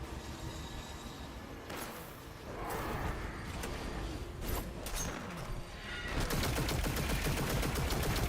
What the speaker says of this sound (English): There's a lot of shooting in this game.